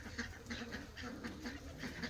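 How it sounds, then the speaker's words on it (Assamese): Local domestic ducks quack in a continuous, overlapping chorus, kept in a makeshift water setup in place of a pond. The calls are moderately close and repeat steadily with no talking. "এইকেইটা পিয়ৰ লোকেল পাতি হাঁহ হয়"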